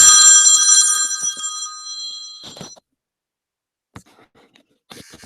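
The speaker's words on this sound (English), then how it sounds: "Just as I hung up, somebody called the phone." An indoor telephone rings once with a bright, sustained electronic trill that fades after a couple of seconds, followed by faint clicks and near silence.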